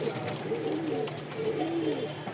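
Soft, low pigeon coos repeat in a rolling rhythm, close by, with faint background chatter and noise.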